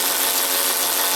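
A Ryobi 3/8-inch cordless ratchet tightening a fastener gives off a steady, close, loud motor whir that holds an even level for about a second with no talking.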